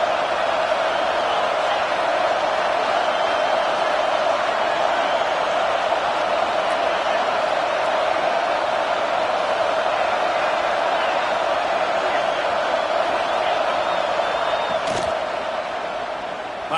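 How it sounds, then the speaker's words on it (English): A stadium crowd roars in a college football video game, a dense, constant wall of loud crowd noise holding steady for the whole stretch with no clear breaks. "This crowd knows when to bring it."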